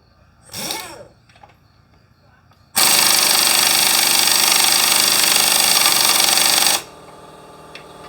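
A Capri CP33200 flex head air impact wrench removing an old nut: after a short rustle, a loud continuous hammering rattle runs for about four seconds, then stops abruptly.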